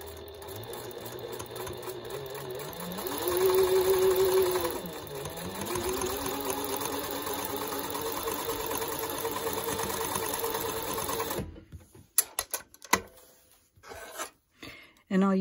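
A sewing machine back tacks while stitching a fabric face mask, a close, steady motor whir with a brief pitch rise as speed changes, then stopping into quiet handling noises and a little talk.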